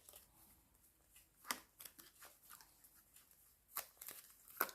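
Tarot cards being shuffled and laid out on a table, soft quiet riffles and flicks in irregular bursts with short pauses between.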